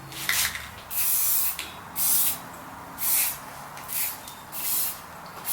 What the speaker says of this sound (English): So I'm going to spray so I can get my